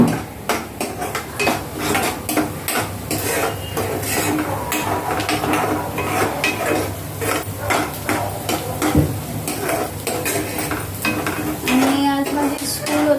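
Food being stirred and sautéed in a pan, with continuous close clattering, scraping and clinking of a utensil against the pan over a low sizzle throughout.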